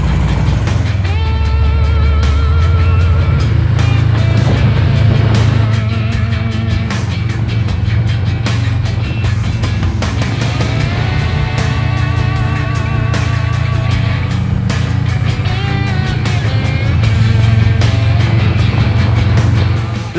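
A custom 2020 Harley-Davidson Street Bob motorcycle out riding, its engine a loud, steady low rumble that holds for the whole stretch with some shifts in pitch as it runs, and nobody talking.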